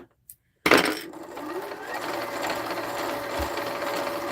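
After a couple of faint clicks, a sewing machine starts up and winds thread onto a bobbin with a steady, close mechanical whir that holds for several seconds.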